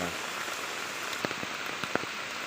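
Rain falls steadily in Feni during flood season, a soft, distant wash dotted with a few sharper nearby drips.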